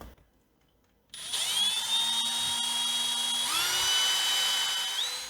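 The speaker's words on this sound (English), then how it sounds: "let me try to drill it" A power drill bores into a thin IKEA furniture panel during an LED light installation, a steady high whine starting after a second of quiet and rising slightly in pitch midway, close and fairly loud with no talking.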